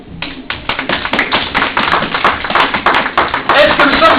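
A church congregation claps steadily in a dense, loud burst of many hands, continuous and growing slightly stronger toward the end, with no voices standing out.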